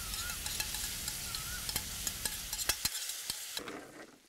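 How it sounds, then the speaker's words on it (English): Tomato sauce sizzling in a frying pan for fesenjoon, a steady bright hiss with scraping stirs and a few clinks of a utensil, fading near the end. "Add our tomato sauce to this pan."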